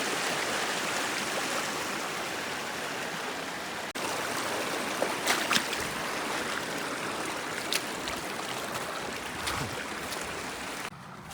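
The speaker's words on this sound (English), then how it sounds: "Okay, so that was a little unplanned river crossing." Boots wading across a stream swollen with snowmelt on a Monadh Liath hillwalk, steady rushing water throughout with a few closer splashes and sloshing steps, loud and continuous with no voices.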